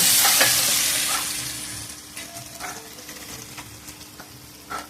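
Poppy seed paste frying with spices in a pan, a bright sizzle that is loudest at first and then fades, broken by a few scraping stirs, no one talking.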